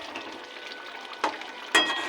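Bengali potol dolma, stuffed pointed gourd in curry, bubbles in a pan with a soft continuous simmering hiss and two sharper popping bursts near the end, quiet and close.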